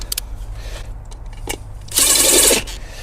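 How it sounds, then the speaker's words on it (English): A short burst of a cordless drill driving screws, whirring for about half a second, loud and close, after a few faint clicks and handling noises. "you can just tighten up the screws with the battery drill"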